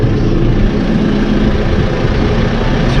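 A farm tractor engine is revved up on the edge of a field, giving a loud, close, steady heavy rumble that holds at raised revs for a few seconds with no talking.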